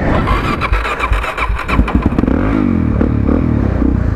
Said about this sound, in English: If it wasn't a DRZ, it probably wouldn't have started.